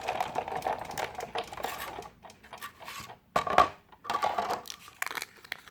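Scissors snipping out a paper scallop square for a layered flap fold card, a quiet run of close, crisp cuts with short pauses between strokes.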